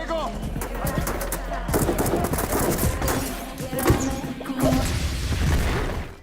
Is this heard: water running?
no